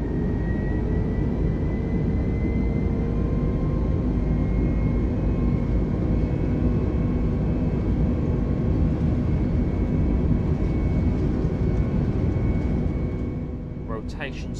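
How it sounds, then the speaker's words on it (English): An Airbus A320 on its takeoff roll in Flight Simulator 2020 gives a loud, steady jet engine roar with a sustained whine. It stays constant throughout and eases slightly at the very end. "So let's get this aircraft into the air and start our journey."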